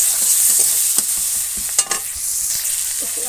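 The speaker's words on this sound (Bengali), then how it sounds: "জিরে দিয়ে দিলাম, একটু দিলাম, দেখো পেঁয়াজ, একটু হলুদ দিলাম" Cumin, onion and turmeric sizzle in hot oil with a bright, steady crackling hiss. A few spoon scrapes and clicks come through as the pan is stirred. No one speaks.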